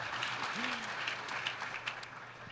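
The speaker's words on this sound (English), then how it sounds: "sorry, don't mean to cut off the applause" Steady applause from a town hall audience for President Obama, a continuous patter of clapping at moderate volume, ending in a sudden loud burst right at the close.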